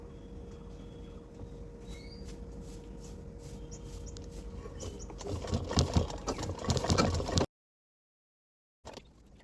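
A sewing machine stitches fabric for a bolster cover, a faint whir that builds into a louder rapid rattle of needle strokes, then cuts off abruptly into silence before a brief restart.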